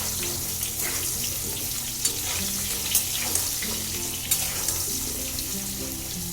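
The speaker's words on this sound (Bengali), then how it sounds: "তেলটা গরম হয়ে গেছে, এবার এর মধ্যে আমি টুকরো করা আলুগুলোকে দিয়ে দেবো। দিয়ে আলুটাকে আমি ভালো করে ভেজে নেব।" Cut potato pieces frying in hot mustard oil in a home kitchen, a steady mid-level sizzle and crackle with soft scattered pops and faint stirring taps.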